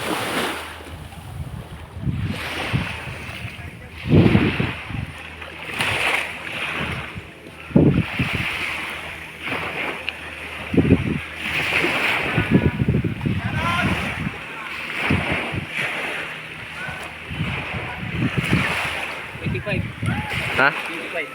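Strong ocean waves wash and break against the shore of an island beach with gusty wind buffeting the microphone, while people talk intermittently over the surf.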